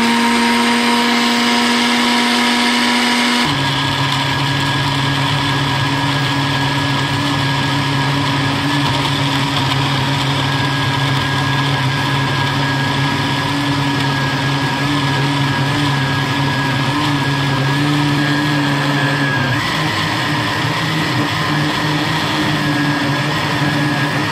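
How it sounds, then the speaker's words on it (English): A kitchen blender grinding onions and tomatoes together, a loud close continuous motor whine that changes pitch as the load shifts, running alone without talk. "Onions and tomatoes are grind together. I'm just going to stop my mixer."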